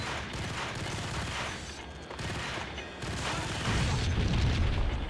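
Gunfire in Max Payne on Xbox, rapid bursts of shots and booming impacts in a busy firefight, loud and continuous with brief pauses before a heavier rumbling barrage.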